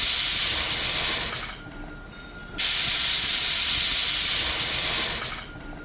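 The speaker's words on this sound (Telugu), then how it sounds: "చూసారా, ఇలా 4 విజిల్లు వస్తాయి" A pressure cooker whistles as it vents steam over tomato dal: a loud, sustained hiss that drops away for about a second, then surges back at full strength before fading near the end.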